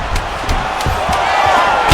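A loud arena crowd in EA Sports UFC 5 roars steadily through a fight finish, with a few sharp thumps punctuating the cheering.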